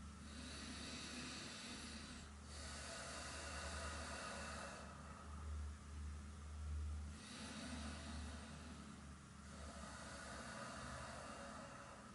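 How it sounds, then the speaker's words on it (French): Slow, deep abdominal breathing during a yoga session: long airy inhales and exhales in a steady cycle of about two and a half seconds, soft and close over a constant background hiss. "On va faire 7 respirations abdominales."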